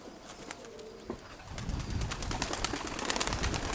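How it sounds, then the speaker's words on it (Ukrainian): Pigeons coo softly at a loft, with a low murmuring cooing and a faint flutter over a quiet outdoor background. "Ось це, Сергій Іванович, ось з-під твоєї ось це, мабуть, голубонька буде маленька така, дуже схожа на мамку."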